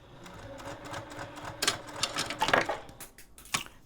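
A sewing machine stitches fabric for a passport cover, its quiet, rapid mechanical rattle building in short bursts alongside sharp clicks and taps, close and faint.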